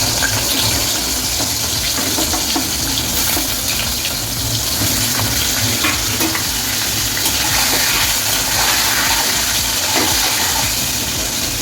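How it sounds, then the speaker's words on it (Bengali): Large chunks of parboiled potato fry in hot oil with a loud, dense, continuous sizzling hiss heard close up and without a break. "এবার আমি ভেজে নেব আলুগুলো।"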